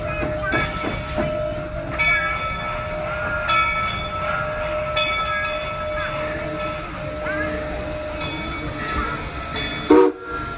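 Train cars coupling at a platform in Colorado, with a long steady whistle-like tone, rumbling rolling noise and scattered metallic squeals, ending in a sharp heavy clunk near the end.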